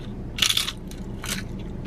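Thin crispy tortilla chips at Applebee's crunched in two sharp bites, close and crisp, with a few smaller crackles in between.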